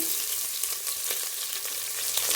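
Chopped small onion and garlic cloves frying in hot oil for radish sambar, a loud, steady close sizzle with occasional stirring taps.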